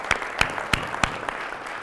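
A handful of sharp, separate claps, about five in a slow irregular rhythm, sound from a conference audience at a wastewater treatment systems gathering, fading quickly rather than building into full applause.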